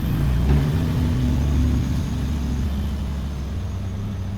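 A Volvo car with faded paint drives off under steady engine power, a continuous mid-range drone with low rumble that swells briefly early on, then settles and eases slightly.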